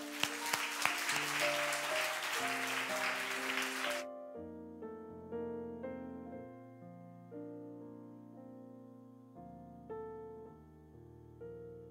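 A church young adults' worship congregation gives a welcoming round of applause for a speaker. The dense clapping is loud for about four seconds, then stops and soft instrumental music plays on alone.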